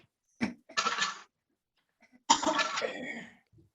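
A voice performs two rough, breathy coughs, the second longer and raspier, close up with a brief pause between them.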